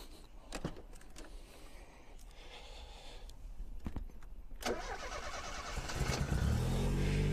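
A 1987 Ford Sierra Cosworth RS500 with a T4 turbo and an aftermarket Bosch fuel pump starting up: a few clicks and a cranking whir, then the engine catches and settles into a loud, close idle, with no talk.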